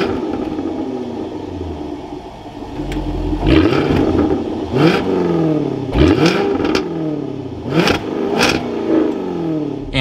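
A 2022 Jaguar F-Type R AWD convertible engine fires up with a loud roar, then settles into a rumbling idle broken by several sharp, close revs spaced a second or two apart.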